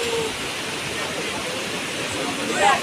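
Sea and wind at Digha beach, heard from seaside seating steps: a continuous broad rushing roar of surf and gusts, fairly loud and steady, swelling slightly near the end.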